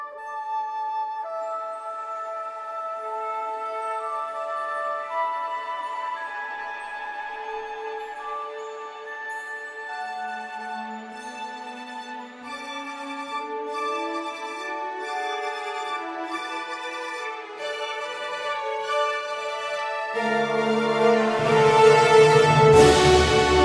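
Glockenspiel and wind chimes sparkle over harmonic tremolo strings from the 8Dio Century library, a sustained shimmering layered texture that swells steadily and brightens into a dense, loud wash of chimes near the end.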